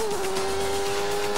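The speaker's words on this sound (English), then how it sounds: "you can hear the engine revs go up, down, down the next brow, third gear" Newman-Haas racing car at Brands Hatch, its engine screaming at a steady high pitch held flat out at high revs, loud and close throughout.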